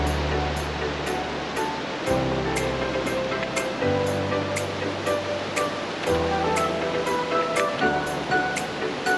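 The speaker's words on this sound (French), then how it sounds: "le torrent il a l'air plus gonflé qu'hier quand même" A swollen mountain torrent rushes loudly and continuously through a remote Caucasus valley in Georgia. The steady, dense roar of water runs alone throughout, with no talk.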